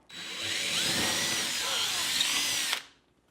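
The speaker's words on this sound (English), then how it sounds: "Then when I come in to drill" A power drill whines steadily into drywall for close to three seconds, then cuts off abruptly, leaving quiet.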